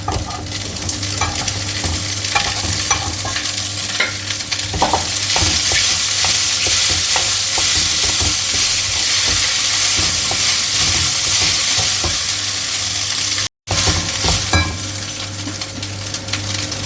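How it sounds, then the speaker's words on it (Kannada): Steady sizzling as cooked rice is stirred into a curry-leaf tempering in a hot pan, with repeated scraping and stirring strokes, continuous and close, with a brief cut of silence near the end. "ಈಗ ಅನ್ನ ಹಾಕ್ಕೊಂಡು ಈ ಒಗ್ಗರಣೆ ಜೊತೆ ಚೆನ್ನಾಗಿ ಮಿಕ್ಸ್ ಮಾಡಿದ್ದೀನಿ"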